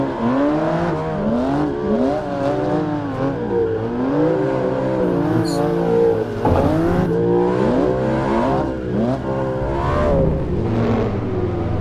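A BMW M2 Competition drifting in Assetto Corsa: a loud, continuous engine note rising and falling as the revs swing, with tire squeal running underneath.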